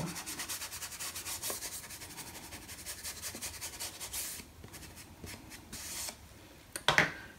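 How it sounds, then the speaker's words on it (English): Ink is rubbed along the paper edge of a file folder flap, making soft, close scratchy strokes that repeat in a quick rhythm, then slow to a few isolated brushes and a brief louder rustle near the end. "I'm going to put a little bit of ink along there as well"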